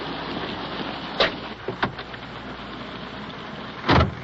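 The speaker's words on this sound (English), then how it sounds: "Well, out once again in the rain. Wet and slushy out here." Steady rain falls on a wet, slushy night outside a police car, a constant hiss broken by a few louder thumps and splashes close by.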